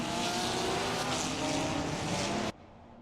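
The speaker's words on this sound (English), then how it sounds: "Here we can see the race start of the formation lap." Race cars on the formation lap at the Red Bull Ring behind the safety car, a steady broadband engine roar sustained for over two seconds, then cutting abruptly to a faint background.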